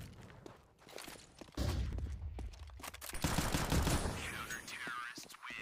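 Gunfire in Counter-Strike 2 during a CS2 esports match: several sharp shots and a short burst ring out among footsteps and scuffling, partly under quiet commentary.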